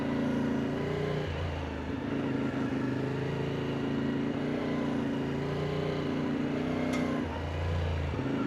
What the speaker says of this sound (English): very easy to throw this bike around